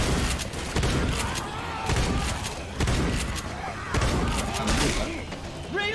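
Rapid gunfire from Left 4 Dead 2 on the Black Mesa Undertow map, dense volleys of sharp shots hammering almost continuously and loudly, with brief gaps between bursts.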